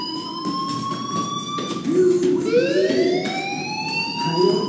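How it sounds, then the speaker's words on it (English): A fire alarm blares in the video game Life is Strange: loud, steady electronic tones that rise and slide in pitch, ringing continuously with no talking. "Hey, do you hear that fire alarm?"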